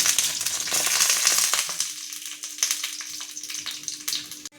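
Food fries in hot oil on a gas stove, a steady crackling hiss that thins into scattered pops and spits, close and fairly loud with no talk.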